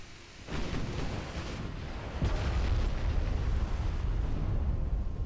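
Naval gunfire and shell explosions striking a battleship in Ultimate Admiral: Dreadnoughts, a sharp opening blast swelling into a sustained heavy rumble of booms, loud and near, with no voices.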